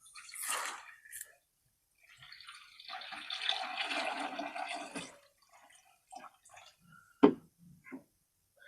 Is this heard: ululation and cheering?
no